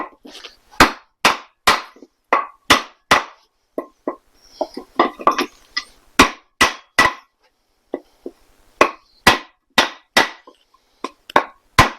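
A 2x4 hammered into the 4-inch cylinder bore of a stuck 327 engine to free it, sharp loud woody blows in irregular bursts of several strikes with short pauses between.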